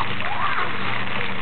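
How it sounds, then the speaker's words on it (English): Water sprays and splashes like rain into an empty pool, a loud steady spatter close by with a voice talking over it. "Woo! It's like rain."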